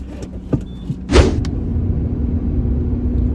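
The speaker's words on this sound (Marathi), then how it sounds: "गाडी हळू चालू भाऊ." A car cruising on a long road trip toward Konkan, heard from inside as a steady low engine and road rumble with a brief louder whoosh early on, like a window moving; no one talks.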